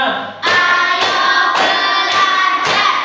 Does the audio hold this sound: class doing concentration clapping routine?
yes